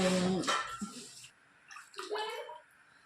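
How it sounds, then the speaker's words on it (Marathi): Peeled potatoes tipped into a bowl of alum water make a short splashing slosh and gurgle close by, followed by quieter trickling, with a faint voice in the background. "तुरटीच्या पाण्यामध्ये टाकून मी"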